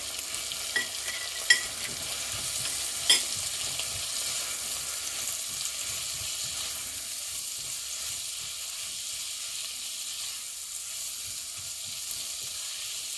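Onion, tomato, masala and red chili powder cooking in a pan for paneer makhani: a soft, even sizzle throughout, with a few light utensil taps early on and no talking.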